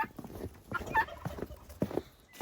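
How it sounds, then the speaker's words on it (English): Chickens outside their coop on a snowy winter homestead make short, irregular clucks and squawky calls, fairly close and moderately quiet, with no talking. "Our chickens are out."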